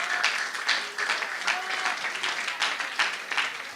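A church congregation claps in a lively round of applause, with distinct individual claps audible within a moderately loud, uneven wash that rises and dips throughout.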